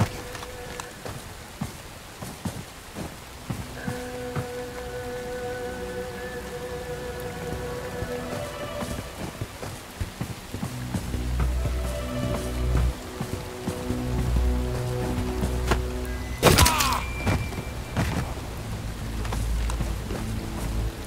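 Steady rain falls across a game level in Bright Memory Infinite, a constant hiss with scattered drips, joined by low engine rumble and a few sharp clanks and footsteps partway through.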